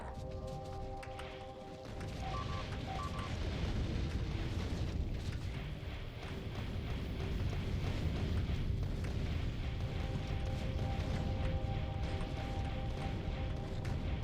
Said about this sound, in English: little bombs, big bombs, holy moly